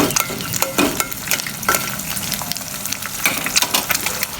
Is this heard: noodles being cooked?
yes